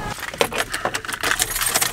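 Car keys for a Honda Civic jangle close by, a quick run of bright metallic clinks and rattles repeating irregularly over two seconds with no talking.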